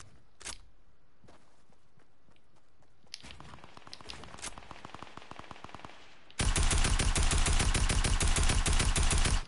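Gunfire in Fortnite opens with a few scattered single shots, then a rapid automatic burst, and ends in a loud, sustained stream of fast repeated shots close up.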